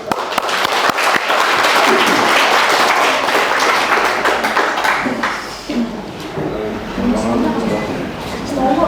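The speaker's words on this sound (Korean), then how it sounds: "박수 합시다." A church congregation claps in warm, dense applause after a pastor's sermon, strong at first and then thinning out as a voice starts speaking over the fading claps.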